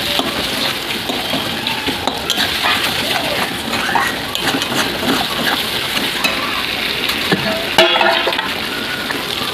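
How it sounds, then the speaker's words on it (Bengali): Masala spices fry in oil while being stirred for a home-cooked chicken curry, giving a steady crackling sizzle with scraping spatula strokes throughout. "দেখুন আর একটু কষিয়ে নেব, যাতে মশলার কাঁচা গন্ধটা চলে যায়।"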